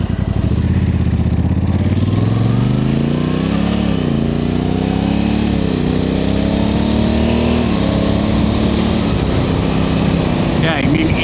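A 2025 Honda Africa Twin Adventure Sports ES DCT motorcycle on the move, its engine loud and close, revving up through rising and falling pitch sweeps as the automatic gearbox shifts, with wind noise throughout.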